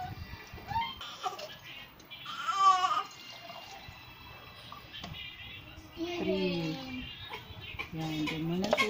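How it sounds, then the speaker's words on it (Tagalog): A baby cries in short whimpering bursts in a home kitchen while someone prepares moringa leaf juice, the wails rising and falling near the microphone, with talking and water sounds in between. "ang baby ko na iyak na"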